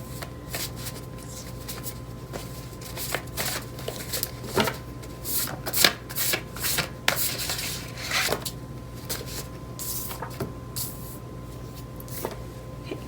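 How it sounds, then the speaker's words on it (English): Tarot cards shuffled by hand, a run of soft riffling and sliding bursts that grow busier toward the middle, close and fairly quiet over a faint steady hum, with no talk. "let's pull some more cards"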